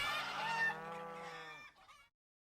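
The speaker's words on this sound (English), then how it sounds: "The hens were very noisy." Farm hens give one loud, drawn-out squawking call up close, fading out before a brief silence.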